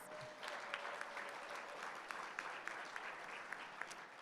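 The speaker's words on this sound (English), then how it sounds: "If you all can give yourself a round of applause." Applause from an audience at a social work hall of distinction induction ceremony, a soft, steady spread of many hands clapping together, heard alone and fairly distant.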